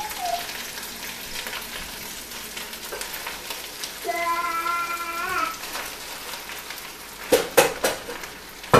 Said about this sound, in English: since it's a fried rice, you want to make sure that it's fried really well on the bottom